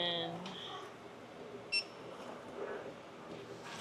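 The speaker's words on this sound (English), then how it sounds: "Does anybody else find that beep satisfying?" A short electronic beep sounds once, sharp and brief, at a checkout inside an IKEA store amid steady busy background chatter and shop noise.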